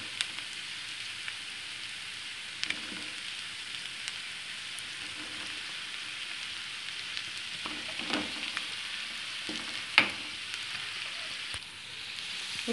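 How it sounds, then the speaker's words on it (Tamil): Potatoes with spice powders and curry masala sizzle steadily in a pan as they are stirred, with scattered spatula scrapes and taps over a constant frying crackle, and no talk. "இப்போ இதை நல்லா மிக்ஸ் பண்ணிக்கணும்."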